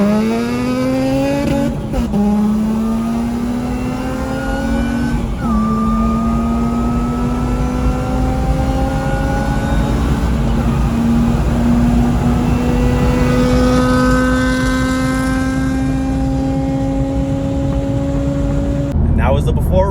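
A Honda Civic Type R with a Phearable Stage 2 tune races a supercharged 8th gen Civic Si, its engine climbing loudly through gears in long rising sweeps with brief drops at each shift, heard close from inside the car.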